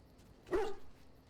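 A dog in Dragon Age: Origins gives a single short bark or yip while being petted, a brief mid-loud sound alone over quiet game ambience.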